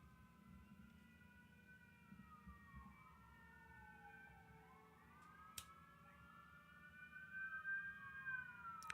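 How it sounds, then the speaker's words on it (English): Emergency vehicle sirens wail outdoors in Toronto, several rising and falling tones overlapping at a distance, faint and drawn out under a low background hum. "A lot of sirens out here."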